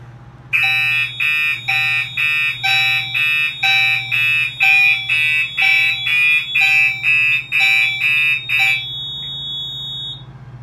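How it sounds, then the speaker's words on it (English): A smoke detector trips a 5820XL fire alarm, which sounds a loud, regular run of rapid electronic horn pulses for around eight seconds over a low background hum, then falls silent, leaving a faint tone. "maybe I'll demonstrate the smoke detector really quick."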